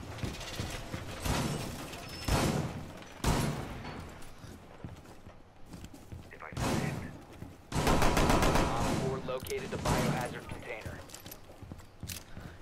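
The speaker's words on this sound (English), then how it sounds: "You physically should not be able to fire a revolver like that without breaking your wrist." A revolver fires rapidly in a video game, with several sharp bursts of quick shots and mechanical clicks between them. Voices talk in the background.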